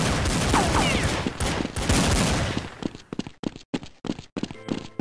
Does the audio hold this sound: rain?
no